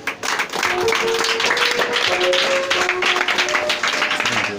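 A church congregation claps together in a steady, lively burst of applause, dense and fairly close, with a few sustained tones of background music or voices running underneath.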